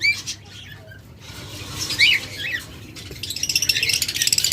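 A pair of green opaline budgerigars squawking and chattering up close, with harsh bursts of calls, some rustling, and a rapid chirping series near the end.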